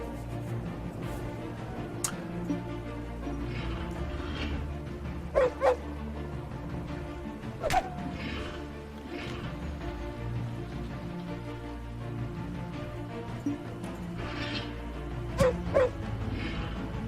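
A dog in The Warlock of Firetop Mountain video game barks a few times in short bursts, heard over a steady rain-like ambient bed that runs throughout.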